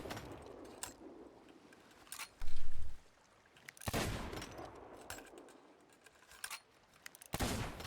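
Bursts of video game gunfire while crouch cancelling, several rapid volleys of shots separated by short pauses, loud and close with no talking.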